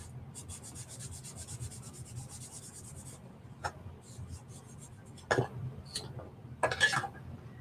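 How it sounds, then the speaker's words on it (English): Soft cloth rubbing as chalk paste is buffed into a transfer with a cut-up old t-shirt on a tag, a steady faint scrubbing with a few louder rubbing bursts near the end. "So I'm just buffing that in."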